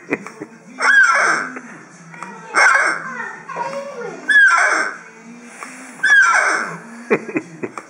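A squeezed Toy Story Rex dinosaur doll gives out four squeaky, honking cries at regular intervals, each a wavering rising-falling tone, with quiet rustling in between.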